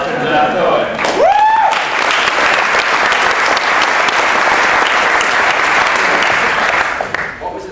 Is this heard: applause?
yes